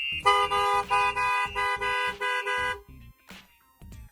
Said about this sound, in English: if you was to continue any further attack or a harder attack, it goes louder, then 5 seconds later the vehicle horn kicks in